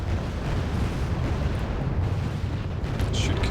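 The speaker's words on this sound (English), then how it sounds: "Send 2 missiles into that ship." Missiles slam into a ship in the Wargame Red Dragon strategy game, producing a heavy, continuous roar of blasts and rumbling impacts that stays loud throughout with no distinct pauses.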